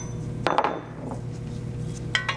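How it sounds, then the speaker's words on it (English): Several sharp metallic taps as a new ball joint is driven into a Volvo steering knuckle during control arm replacement, a few quick clinks close by in a quiet garage. "tap the ball joint into place"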